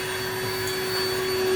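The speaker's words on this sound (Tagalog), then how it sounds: "Yung vacuum na yan, double purpose." Vacuum cleaner running indoors at home, a steady loud motor whine with a constant pitch and no break, close up with no talking.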